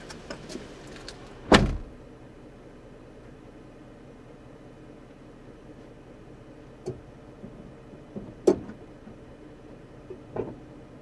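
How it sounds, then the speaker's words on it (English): The hood of a 2013 Ford Police Interceptor Explorer AWD is popped open with a sharp metallic clunk. Faint clicks and a second solid thud follow later against a quiet background. "we're gonna pop up the hood"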